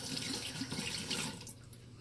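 Tap water running into a sink to wet a toothbrush used for hair, a steady close splashing stream lasting about two seconds, fairly quiet with no talk.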